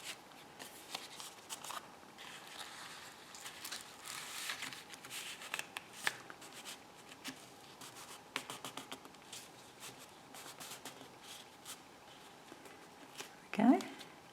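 A paper card sliding into a pocket in a journal, heard as faint soft papery rustling and brushing close by, with a louder scrape near the end.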